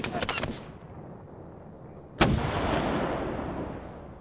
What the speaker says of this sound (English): Those tanks are firing at us.